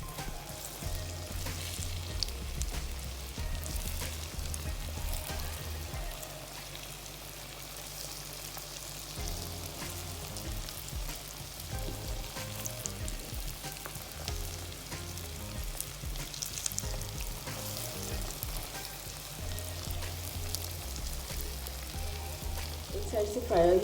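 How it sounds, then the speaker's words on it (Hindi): Cheesy potato bread rolls coated in egg and breadcrumbs fry in hot oil, giving a steady, close crackling sizzle with bubbling pops that runs throughout, with no talk over it. "और अब मैंने फ्राई करूँगी।"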